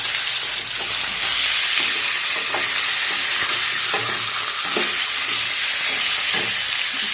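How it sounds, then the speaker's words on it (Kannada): Chicken sizzles loudly in a pan of fried onions, a constant hiss broken by repeated scraping stirs every second or so, close and without talk. "ಈರುಳ್ಳಿ ಬೆಂದಿದೆ. ಈ ಟೈಮಲ್ಲಿ ನಾವು ತೊಳೆದಿಟ್ಕೊಂಡಿರೋ ಚಿಕನ್ ಹಾಕೋಣ"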